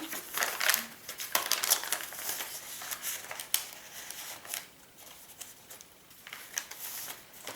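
Journaling paper from a pink Victorian romance journal kit crinkles close by in short, irregular bursts of rustling and crackling, with quieter handling noises in between and no talking.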